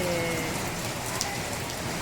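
Steady monsoon rain falling on a surface at night, a dense continuous patter with no pauses, fairly loud and close.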